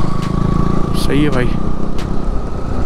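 Motorcycles of bikers riding alongside on a road near Pangong Tso lake in Ladakh drone steadily with an engine hum throughout, heard from inside a moving vehicle beneath people talking.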